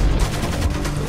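Gunfire in the stealth video game Splinter Cell on hard difficulty, a rapid burst of close, loud shots running together through the whole moment with no talk over it.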